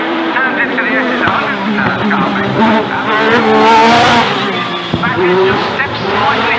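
V6 hillclimb race car accelerating hard through the S bends at Shelsley Walsh, a loud, rising engine roar with gear changes and a brief tyre squeal, with commentary audible alongside.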